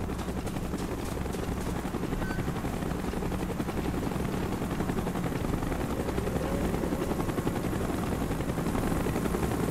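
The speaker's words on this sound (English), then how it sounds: "Chopper's inbound. Move it." In Call of Duty: Black Ops, an arriving helicopter fills the scene with a continuous, heavy rotor thump and engine roar, steady and fairly close, with no speech on top.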